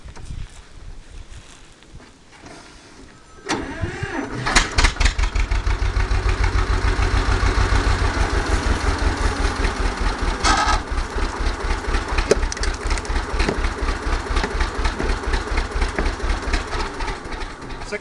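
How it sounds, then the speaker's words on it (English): A tractor with a Maytag Model 92 engine, fitted with a stuck piston being worked free, cranks and catches, then settles into a loud, steady, rapid putter that runs close and alone to the end. "I'm going to start the tractor up and hope it works."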